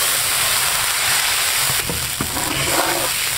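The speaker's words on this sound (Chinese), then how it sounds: "加豆瓣酱，放点海椒面，增色提味，加入清水" Doubanjiang and chili powder sizzle and fry in hot oil with ginger and garlic, a steady crackling hiss that turns to a bubbling rush as water is poured into the pan.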